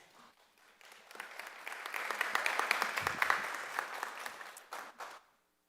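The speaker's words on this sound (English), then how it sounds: "Please save your applause, though." People at a Bay City, Michigan city meeting applaud after a public speaker: clapping swells in quickly, holds for a few seconds with distinct hand claps audible, then tapers off and stops.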